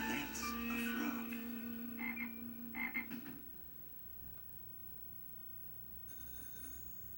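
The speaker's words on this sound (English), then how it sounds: "Now that's a frog." A cartoon frog croaks in a few clear, ringing bursts near the start, followed by quieter background sound and a faint high tone toward the end.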